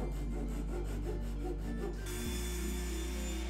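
Hand sawing an angled cut through a wooden leg for a lightweight DIY cornhole board, a steady back-and-forth rasping rhythm, close and alone, with the tone shifting partway through.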